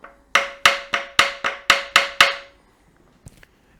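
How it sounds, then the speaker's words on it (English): Eight light hammer taps strike a lathe spindle part from a Meddings SF12 during disassembly, evenly spaced and ringing with a bright metallic tone that decays between hits, then a single faint knock after a pause. "if I give that a tap, looks like something's moving"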